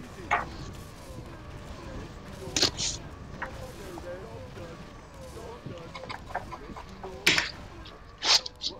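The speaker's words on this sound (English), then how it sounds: "chicken!" Chickens cluck in the Warcraft 3 custom map Random Farm TD, repeated short clucks and squawks scattered across a busy game soundscape with other sharp effects.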